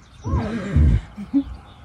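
A horse at an equestrian campground in the mountains gives a short, close neigh with a rising-falling whinny, followed by a brief snort.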